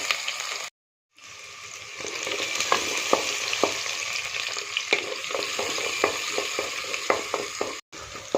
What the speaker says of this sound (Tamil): இப்போ வெங்காயம் பூண்டு போட்டு வதக்கலாம்